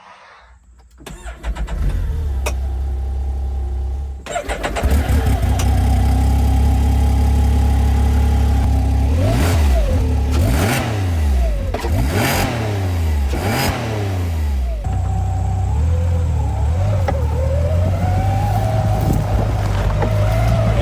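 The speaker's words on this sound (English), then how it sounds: "Let's actually hear the engine." A 2026 Can-Am Defender Limited HD11 side-by-side engine starts up, idles, then revs and accelerates repeatedly, loud and close, with shifting pitch as it drives on 30-inch tires.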